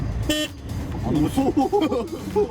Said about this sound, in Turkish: Nasıl bir korna bu?